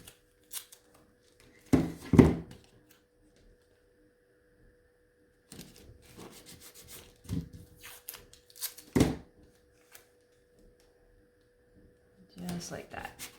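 Tape being pulled and pressed down to mark off where painted flower stems begin on a spring sign, heard as a few scattered crackling, sticky bursts with quiet gaps between them.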